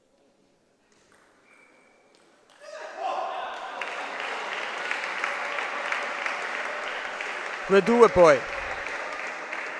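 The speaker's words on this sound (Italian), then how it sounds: "Quindi applausi sia di Rossi da una parte e di Antonio Giordano dall'altra." Applause breaks out at a Serie A1 men's table tennis match after a near-silent start and holds steady to the end, with a brief spoken comment and a few sharp squeaks near the end.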